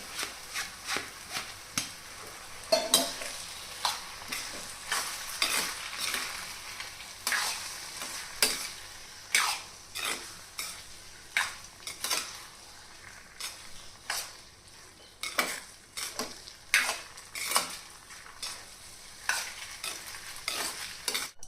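Vermicelli stirred in a pan over a low flame with roasted spice paste, a steady soft sizzle broken by repeated scraping strokes of the spoon, close and moderately loud with no talking.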